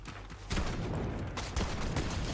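Rapid bursts of gunfire in the video game Fortnite, played on a phone during a tournament match, loud dense shots clustered in two volleys with no talking.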